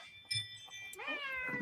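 A girl imitates a cat, giving one quiet meow that rises and then falls and sounds fairly close, with no one talking.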